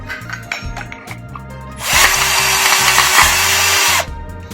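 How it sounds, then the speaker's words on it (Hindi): A Bosch GSB 120LI cordless drill in first gear bores a hole, its loud whirring grind starting abruptly and running steadily for about two seconds before stopping, over low repeating background tones. "देखिए ये लगभग ड्रिल हो चुका है, नीचे तक चला गया है।"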